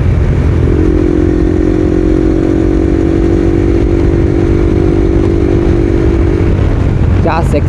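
A fully modified Bajaj Pulsar NS 200 motorcycle with an aftermarket exhaust idles and holds a loud, steady revving drone, close and gritty throughout, with a brief rising blip near the end.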